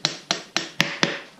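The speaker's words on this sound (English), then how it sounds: "I'm just going to use a hammer and push the axle rod out" A hammer striking the front axle rod of a Yamaha BW 200 motorcycle to knock it out, five sharp metallic knocks in an even rhythm about a quarter second apart, close and clear.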